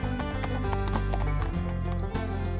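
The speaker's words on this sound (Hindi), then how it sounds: "दौड़ा दौड़ा दौड़ा घोड़ा दुम उठा के दौड़ा" Clip-clop of horse hooves in an animated Hindi children's song, a steady galloping rhythm mixed loudly with music throughout.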